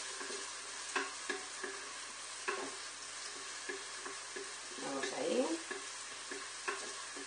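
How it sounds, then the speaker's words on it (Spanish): Onions for a sofrito fry gently with bay leaves in a pan, a soft, quiet sizzle punctuated by regular light taps and scrapes of a utensil. "estamos sofriendo las cebollitas y le echamos 2 hojitas de laurel"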